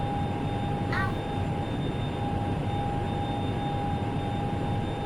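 Hawker 4000 business jet climbing steeply in the X-Plane 11 flight simulator, a steady broadband engine roar with a constant whine, loud and unbroken throughout, with a brief chirp near the start.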